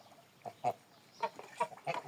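Domestic geese, a gander and three females, give several short nasal calls spaced irregularly, close and moderately loud in a quiet enclosure.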